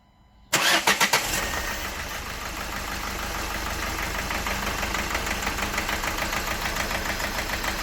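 A Renault Megane 3 1.5 dCi diesel engine cranks briefly with a few quick turns, then catches and settles into a loud, uneven idle with a steady knocking pulse.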